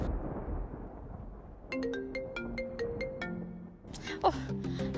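A phone ringtone plays a bright repeating melody of short electronic tones as a call is placed, preceded by indoor background noise and followed by a voice speaking.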